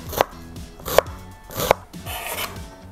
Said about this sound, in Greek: Θα ψιλοκόψω ένα μέτριο κρεμμύδι